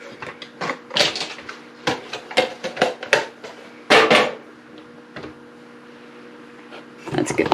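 Pitted dates, a whole 12-ounce box, being chopped in a food chopper: a run of sharp, uneven clattering bursts with short pauses, loud and close, with a brief lull before it resumes.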